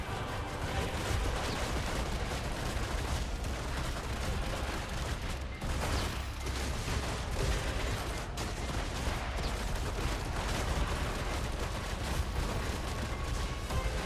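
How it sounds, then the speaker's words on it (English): Rapid, continuous gunfire from the Deadeye class firing Marnie rounds in Black Desert, a dense barrage of shots with explosive bursts running steadily throughout, loud, with no talk. "the Marnie rounds are a lot faster. Like faster attack speed"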